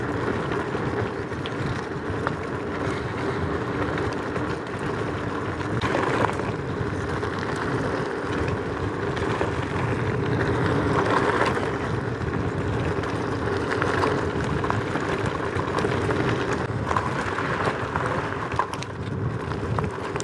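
Riding a Kugoo M4 Pro electric scooter, a £600 model rated at 30 mph: a steady rushing of wind and road noise with a faint motor whine runs continuously, fairly loud and close, and no one speaks.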